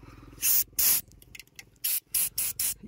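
Sharp bursts of hissing air from a Swaraj 855 tractor's compressor air filter, two longer blasts then three quick ones, separated by quieter mechanical rattling.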